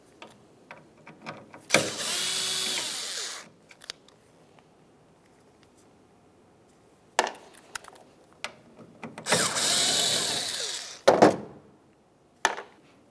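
Two T25 Torx screws being backed out of the tailgate of a 2005-2010 Dodge Dakota, heard as two long, loud bursts of driver whirring, with scattered clicks and taps of tool handling between them.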